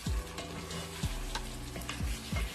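Fried chicken pieces being stirred into a sizzling pan of chicken shorba (salan): steady, close frying hiss with several heavy scraping, stirring strokes breaking through at regular intervals.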